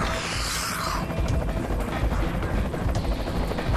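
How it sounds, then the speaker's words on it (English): Helicopter in Resident Evil 4's Mercenaries mode, a loud continuous rotor roar swelling in over a busy game soundscape, with a hissing burst at the start and scattered impacts beneath. "A chopper?"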